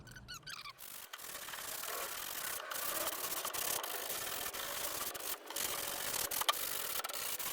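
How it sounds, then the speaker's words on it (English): An antique wooden school desk tray is sanded with 120-grit paper. The scratchy rubbing is continuous and fairly quiet, broken by a few short pauses. "I'm gonna sand this tray here and kind of see what happens"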